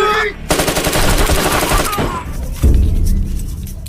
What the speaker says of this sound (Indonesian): dan diakhiri dengan tembakan.